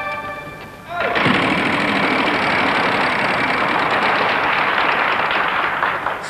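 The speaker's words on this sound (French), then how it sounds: "C'est vous qui lancez la roue." The big game show wheel on a 1996 French Wheel of Fortune is set spinning, bursting into a loud, dense, steady clatter after a brief quieter opening, sustained for several seconds.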